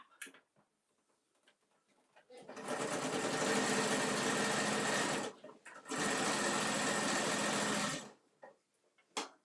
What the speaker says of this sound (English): So now I'm just going to sew down the top, which is your flap.